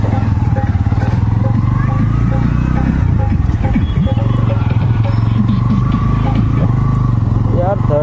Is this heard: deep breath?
no